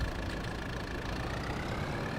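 A tractor engine runs steadily at close range on a farm field in the evening, a continuous low, even rumble with no breaks and no talk over it.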